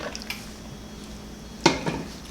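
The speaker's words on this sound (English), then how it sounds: "I'm just going to stir it" A spoon stirring a creamy spinach salmon sauce in a pan, heard as a couple of soft scrapes and one sharper clink against the pan over a quiet background.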